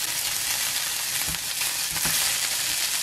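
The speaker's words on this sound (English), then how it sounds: "Sorry, just talking with the spoon there." While onions and pepper fry for shakshuka, a spoon knocks twice against the frying pan, two brief clatters standing out over a loud, dense sizzle.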